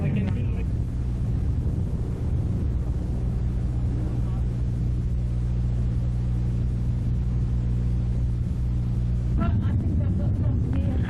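Race cars circling a speedway oval in a six-car qualifying heat, a steady low engine rumble that carries throughout, with a louder pass near the end.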